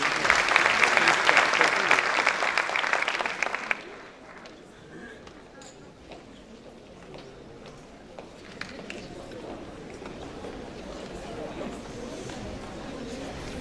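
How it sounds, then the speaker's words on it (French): An audience at a LeaderSHE Talks event at the École Mohammadia des Ingénieurs gives loud, dense applause for about four seconds, then it stops abruptly, leaving quieter room noise, footsteps and murmuring voices. "Mesdames et messieurs, sous vos applaudissements, Madame Sana El Hlou."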